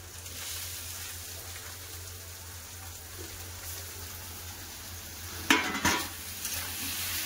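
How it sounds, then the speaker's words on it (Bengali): Boiled water spinach greens are being mixed with fried fish roe in a pan, producing a low, steady sizzle with a few sharp scraping and clattering stirs near the end and no talking. "ডিমের সাথে শাকটা খুব সুন্দর করে মিশিয়ে নেব"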